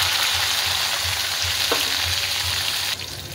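Crushed garlic and tomatoes fry in a pan for a capsicum sabzi, a steady close sizzle with light stirring scrapes, the noise dropping slightly in the last half second.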